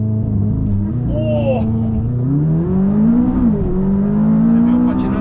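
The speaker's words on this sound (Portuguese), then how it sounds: "Só escuta o motor?" A McLaren 570S sports car engine drones and revs steadily on a race track in heavy rain, its pitch sliding up and down as it accelerates, loud and close throughout.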